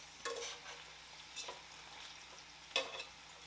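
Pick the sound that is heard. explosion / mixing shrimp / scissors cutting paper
mixing shrimp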